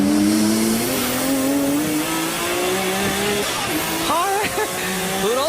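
Nissan Skyline R34 GTR V-Spec II race car engine accelerating, a loud rising drone climbing steadily in pitch through gears, with further revving swells near the end and a voice speaking underneath.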